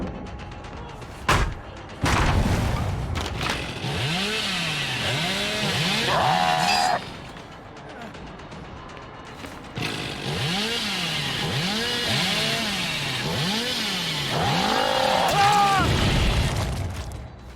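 Revving chainsaw wielded by Hillbilly in a video game, looping up-and-down engine whine in two long runs broken by sharp impacts and quieter gaps, loud and close with a voice speaking over parts of it.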